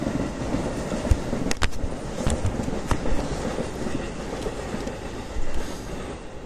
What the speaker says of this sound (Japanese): 金網の向こう側が、ほら、電車通ってるでしょ。